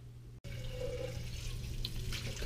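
Running tap water rinses out an empty chili can, a steady close splash and rush with a brief break near the start, no voices present.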